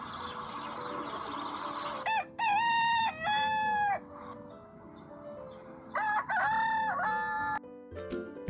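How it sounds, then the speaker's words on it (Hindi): A rooster crows loudly twice, each call a long drawn-out cry, with a softer bird sound between and quiet background otherwise. "ये है मुर्गा, जिसे हम इंग्लिश में बोलते हैं रोस्टर।"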